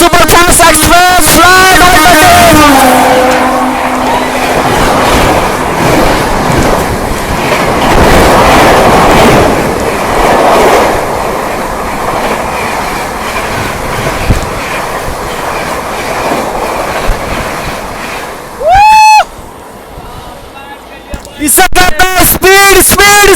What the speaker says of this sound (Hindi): दोस्तों यहाँ ओवरटेक कर रही है हमें हल्दिया सुपरफास्ट एक्सप्रेस